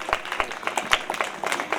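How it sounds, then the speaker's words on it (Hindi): A church congregation claps in a modest, uneven patter of individual hand claps, fairly quiet and loosely rhythmic, lasting the whole brief moment. "इनकी जिंदगियों के लिए ताली बजाएं।"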